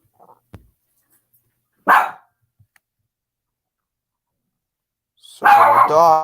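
A dog barks in short, loud, close bursts separated by long silences, with a brief tap early on and a louder final bark with whimpering tone at the end; no talking.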